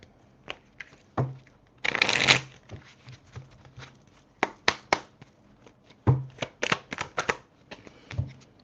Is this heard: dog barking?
no